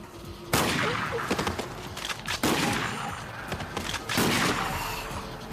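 Bursts of anime gunfire crack out at close range, a few heavy shots and rapid volleys in quick succession, loud and echoing.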